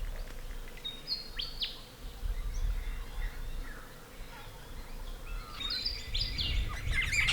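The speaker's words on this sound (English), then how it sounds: "The commotion being made by these two, a pair of sacred kingfishers" A pair of sacred kingfishers give sharp, repeated high calls in bursts near the start and again toward the end, heard against a steady outdoor background hum.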